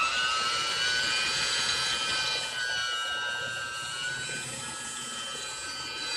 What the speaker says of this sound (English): the new Helix hand mixer at work.